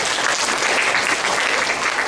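A church congregation applauds, dense, steady clapping that fills the short moment evenly from start to finish.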